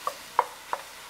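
80/20 ground beef broken up with a utensil in a preheated 7-quart Dutch oven with onions, three separate soft scraping taps spaced evenly apart against a quiet background.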